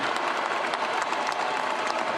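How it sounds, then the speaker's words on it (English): Steady, dense applause from a large NBA crowd, continuous and even throughout with no pauses or voices standing out. "we first have to give a round of applause to the Denver Nuggets"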